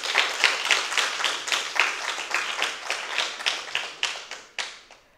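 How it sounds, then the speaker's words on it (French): A modest audience at a student eloquence contest claps for the participants, distinct individual handclaps in a brisk scattered rhythm that gradually thins out near the end. "Merci de les applaudir."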